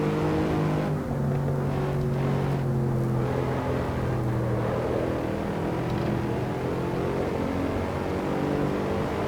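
A Mercedes SLS engine in Assetto Corsa droning at the Nürburgring GP circuit, a loud, steady revving note with rising and falling pitch as the car accelerates and shifts, continuous and alone.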